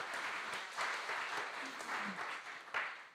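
Audience applause at a spring conference session, a dense, sustained wash of clapping hands that swells in waves and keeps going steadily throughout, with no speech over it.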